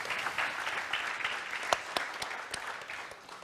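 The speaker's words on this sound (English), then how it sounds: "I think we can give them a big applause here for Gateway." A conference audience applauds, steady clapping from many hands that fades slightly toward the end, with no talking over it.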